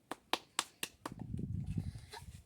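Children clapping after a poem recitation: five sharp, evenly spaced claps, then a murmuring stretch of softer hand sounds and rustle.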